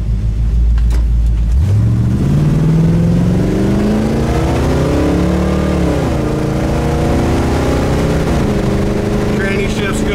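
A 1955 Chevy Bel Air driving on the road with its windows open, the engine starting low, then revving up through rising gear changes, loud and close, with someone talking over it.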